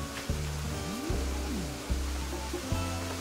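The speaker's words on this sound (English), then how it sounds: "Waterfall diamond." A waterfall in the Animal Crossing: New Horizons video game gives a constant, soft rushing wash beneath gentle, rhythmic game music with plucked notes and regular beats.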